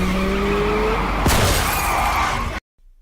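A motorbike crash as a rider falls off during a shootout, heard as a loud sustained roar of skidding and engine noise with a sharp impact near the middle, cutting off abruptly near the end.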